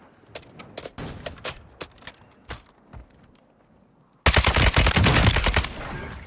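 Gunfire in the video game Call of Duty: Modern Warfare II: scattered single shots and short bursts from a distance, then a sudden loud, close stream of rapid automatic fire that runs for about two seconds before cutting off.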